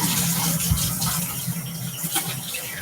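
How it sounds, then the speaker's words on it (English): A kitchen tap runs while hands are rinsed under it, a steady splashing gush with small shifts in the flow as the hands move through the stream. "I'm just gonna rinse my hands before I grab the olive oil again."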